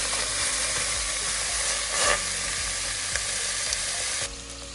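Chicken frying in a pan in its own rendered fat, with a close, dense, steady sizzle, a few brief stirring scrapes, and a drop in intensity near the end.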